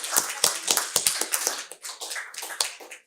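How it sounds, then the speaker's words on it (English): A small audience at a research conference closing session claps for the team. Distinct individual claps sound close and fairly quiet, in a loose, uneven patter lasting about three seconds with no talk over it. "a big round of applause for them"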